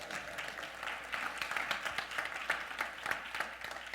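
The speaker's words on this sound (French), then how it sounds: "Bon, acclamez-les quand même." A church congregation applauds a couple at a pastor's sermon, steady dense clapping from many hands at a moderate distance, continuous for several seconds with no clear voice on top.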